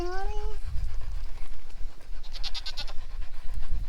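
Goats on a farm bleat close by, with one wavering call at the start and another later, over breathy panting and rustling noise.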